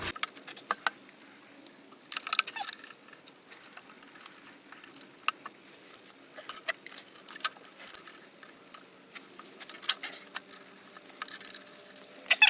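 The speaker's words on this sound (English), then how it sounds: "I'm gonna just lift this up and start to get a couple bolts started here" Small metal bolts clink and rattle faintly as they are threaded by hand onto a Sterling 10.5 axle during an axle swap, with scattered light taps and jingles over quiet background noise.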